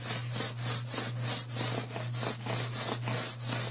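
A paint roller worked back and forth over a puttied patch on a wall, about a dozen regular rolling strokes with a soft rasping rhythm, close and steady over a low constant hum.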